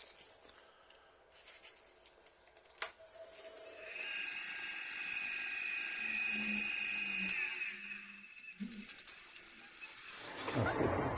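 A turned pen blank spinning on a lathe while 400 grit sandpaper is pressed against it, a faint rising whine and hiss that builds for several seconds, then eases, with a brief knock early on.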